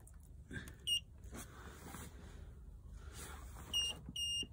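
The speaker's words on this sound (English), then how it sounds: "See, that's beeping. It's showing the gas beeping." A 2021 Elddis Avante 454 caravan fridge gives sharp, high electronic beeps, a short pair early on and another cluster near the end, warning that the gas is not connected, over quiet room noise.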